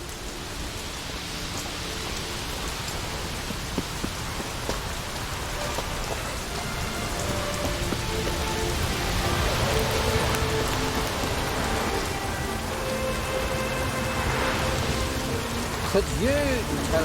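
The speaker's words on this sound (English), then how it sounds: "Looks like rain." Steady rain falling on surfaces in The Witcher 3: Wild Hunt, a continuous wash of close, even hiss with occasional faint low rumbles, running under intermittent character speech and background game sounds.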